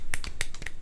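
A quick little golf clap, four or five light, sharp claps in under a second, close and dry with no talking.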